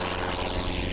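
A small training airplane with an instructor aboard, heard from inside in flight as a loud, steady broadband propeller and engine roar that holds without a break.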